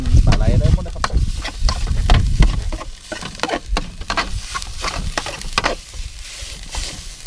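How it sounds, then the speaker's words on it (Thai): Chili paste is stir-fried in a hot pan, sizzling loudly with repeated scraping and stirring strokes of a spatula; the frying is heavy at first and then settles into a steady crackle. "ผัดน้ำพริกให้หอมก่อนนะครับ"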